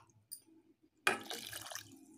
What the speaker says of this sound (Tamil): அதிலே ஒரு கப் அளவுக்கு தண்ணி விட்டுக்கலாம்.